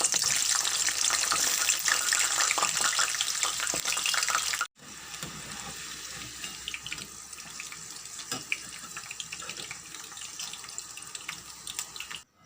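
Capsicum pieces fry in oil left from frying onions, giving a loud, steady broadband hiss that briefly cuts out partway, then continues at a softer, crackling level.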